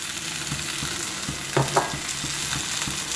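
A sweet potato and chhena mixture with semolina is stirred in a pan, with a steady low sizzle under rhythmic scraping strokes and a couple of sharper clinks partway through, close and without voices.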